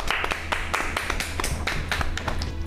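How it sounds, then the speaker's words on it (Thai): Office staff clapping for a colleague, a small group of hands producing sharp, distinct claps in an uneven rhythm, close and fairly loud. "ขอให้ทุกคนช่วยกันปรบมือให้คุณพลอยหน่อยครับ"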